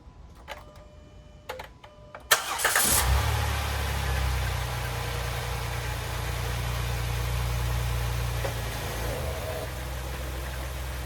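A 2008 Dodge Caravan on ramps after an oil and filter change: a few clicks and a brief crank, then the engine catches and settles into a steady low idle that carries on to the end.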